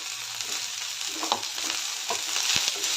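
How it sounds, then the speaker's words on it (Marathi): Okra, onion and curry leaves fry in oil with a continuous close sizzle, broken by a few light clicks and scrapes as the pan is stirred. "तेलामध्ये भेंडी आणि कांदा फ्राय करून घ्यायचा आहे"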